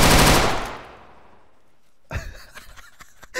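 ARMA 3 video game gunfire: a loud shot rings out and fades, then after a short silence a quick burst of sharp shots cracks close by.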